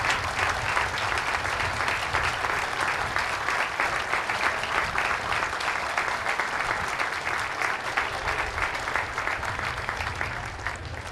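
Broad, steady outdoor applause rises from a crowd at a Fourth of July patriotic program honoring parading veterans, a continuous wash of many hands clapping at an even level that fades a touch near the end.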